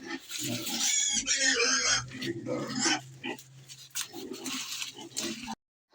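Loud, repeated squealing and grunting from hungry pigs wanting food, rising and falling in bursts, with some voices mixed in, before cutting off abruptly.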